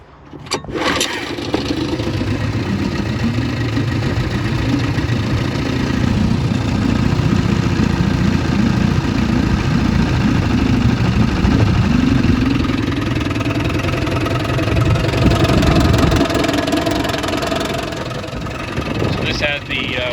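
A 1953 Firestone 10 hp Scott Atwater antique outboard motor starts with a sharp pull and then runs with a loud, steady buzzing drone on the water, easing off slightly near the end.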